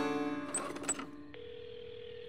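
Cartoon telephone ringing during a call: a buzzy electronic ring with bright chirps, followed by a flat steady tone that holds to the end, fairly quiet and without talk.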